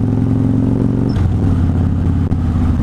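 A 2013 Harley-Davidson Fat Bob motorcycle engine idles loudly with a steady low throb, then blips briefly around the middle before settling back to a rumbling idle.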